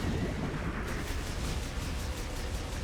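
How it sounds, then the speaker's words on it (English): Pyamite enemy exploding in Metroid Prime 4: Beyond, a loud sustained blast of dense rumbling noise, near and steady throughout with faint crackling pops, no voices. "Yeah, it's what you expect from an exploding enemy."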